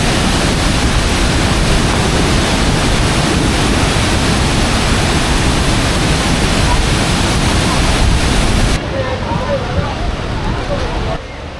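Loud, continuous roar of a waterfall on the China–Vietnam border, a dense rushing wash of water close by that drops slightly in level near the end.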